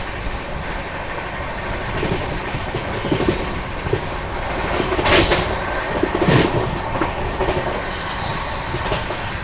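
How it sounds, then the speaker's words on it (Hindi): The Mahabodhi Express pulls away from Ruma station at speed, a steady loud rolling roar with rhythmic wheel clatter and a few sharp bursts of rail noise, heard close from on board. "एक 130 की रफ्तार महाबोधि एक्सप्रेस रूमा स्टेशन से निकलते हुए अब थोड़ी देर में क्रॉसिंग होगी अपनी हावड़ा राजधानी एक्सप्रेस से"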